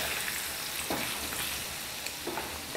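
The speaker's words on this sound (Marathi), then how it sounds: "याला 2 मिनटं फ्राय होऊ देऊ." Chicken coated in masala fries in a pan for chicken pickle, a constant close hissing sizzle with occasional stirring scrapes, steady and fairly loud, no voices.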